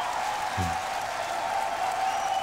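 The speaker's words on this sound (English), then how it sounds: "Give it up for River!" Steady audience applause fills the hall at a beatbox battle semi-final, dense and continuous throughout with a brief voice near the start.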